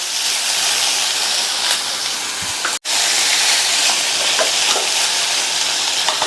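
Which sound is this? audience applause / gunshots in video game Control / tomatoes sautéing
tomatoes sautéing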